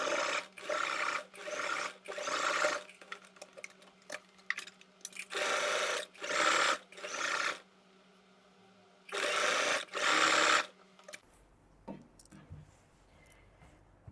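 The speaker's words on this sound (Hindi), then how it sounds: "इसी सिलाई पर हमको फिर से सिलाई चलानी है।" A sewing machine stitches a gown in loud bursts of fast, even whirring, a few seconds each, separated by short pauses with quiet handling noises.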